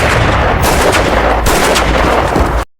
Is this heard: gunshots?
yes